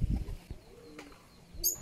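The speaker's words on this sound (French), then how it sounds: "On dirait des pigeons mais beaux." Caged birds resembling pigeons, kept in Mexico, give a few soft, faint coos against quiet background noise, with no one speaking.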